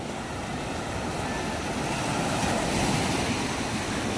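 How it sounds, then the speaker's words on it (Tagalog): Steady roar of rough sea waves and surf around a small boat, with wind buffeting the microphone throughout. "Ito yung yung mga time na ayaw natin guys, yung ganitong nagkakaalon."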